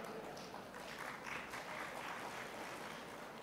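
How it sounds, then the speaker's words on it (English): A conference opening audience claps in a steady, dense patter, faint and distant throughout with no clear peaks. "You can clap more, it's okay."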